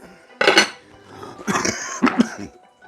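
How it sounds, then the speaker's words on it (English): Lid set on a green bean casserole dish before it goes into the oven, a few close, hard clattering knocks of cookware in quick separate bursts with quiet gaps between. "Now it's good to go for the oven. Put a lid on it."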